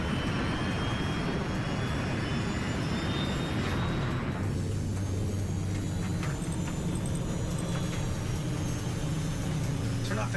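Airliner climbing toward 33,000 feet with a steady jet engine roar and broadband cabin rumble, continuous and fairly loud, with a low drone shifting partway through.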